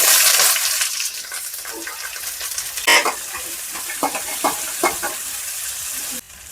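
Onions, mustard seeds, cumin, dried red chillies and curry leaves fry in oil for sambar, giving a steady close sizzle with scattered crackles and stirring scrapes, fading out abruptly at the end.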